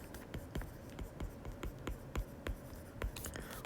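Marker or chalk strokes on a classroom board during an English grammar lesson, a run of short scratchy taps and squeaks in an irregular rhythm, close and moderately loud.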